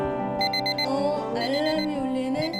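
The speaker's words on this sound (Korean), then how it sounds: "알람이 울리네?" A melodic alarm plays a short, repeating electronic tune, close and clear, serving as a reminder to take medicine.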